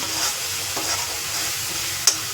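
Food sizzling and frying in a pan while chole is being cooked, a steady hiss with occasional stirring scrapes and a sharp clink near the end.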